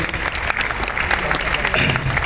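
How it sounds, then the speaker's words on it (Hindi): Loud, dense audience applause at a business talk, a crowd clapping hard and continuously throughout, close and full with a faint murmur of voices underneath. "एक बार जोरदार तालियां चाहूँगा सर के लिए"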